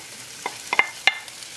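Peppers for a lamb jalfrezi drop back into a hot frying pan, giving a few short, close clatters and stirring noises over a soft, steady sizzle.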